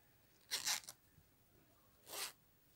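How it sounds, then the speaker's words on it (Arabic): The zipper on a crocheted pouch rasps open and shut in two brief, quiet pulls, the first slightly longer and broken into quick bursts, the second a single smooth stroke. "ركبت السوستة اهي ماشي اهي"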